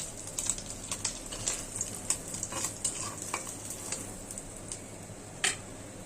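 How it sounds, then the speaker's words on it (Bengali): Eggs fry in hot oil in a kadai, with a soft continuous sizzle broken by frequent light clicks and taps of a utensil against the pan, fairly quiet and close with no talking. "এটা আমি ডিম ভাজবো।"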